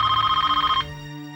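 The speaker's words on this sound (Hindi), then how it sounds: "अब किसका फोन? अरे उठाओ तो सही पहले।" A telephone bell rings in a home drama setting, a bright repeated electronic trill pulsing rapidly for under a second before cutting off, leaving a faint sustained tone, with no voices.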